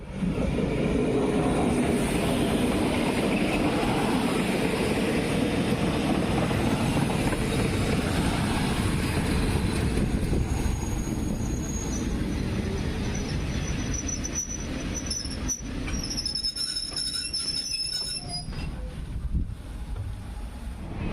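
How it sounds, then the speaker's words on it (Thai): A train pulling into a station on the Thai railway line to Sai Yok, a loud rumbling roll of wheels on track that slowly fades. Brief high metallic squeals come near the end. "ในเวลา9โมงครึ่งรถไฟของเราก็มาแล้วครับผม"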